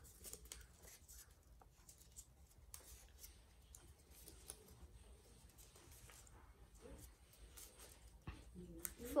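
Paper creased, unfolded and folded while making an origami air-to-air missile, faint close crinkles, taps and soft rustles in an irregular rhythm, ending with a louder crackle.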